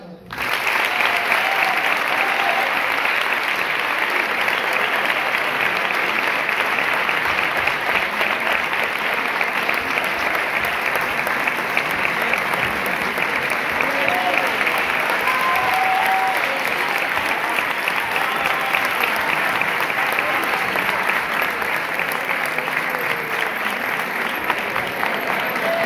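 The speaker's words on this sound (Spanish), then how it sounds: "un fuerte aplauso" Sustained, loud applause from the audience at a Santa Cecilia celebration held by a musical association, dense and even clapping filling the room for the whole stretch with no voices on top.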